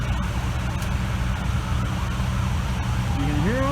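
Fire truck sirens approach at the scene of a bowling center fire in Grafton, Ohio, a rising wail emerging near the end over a steady low rumble of idling engines and crowd noise.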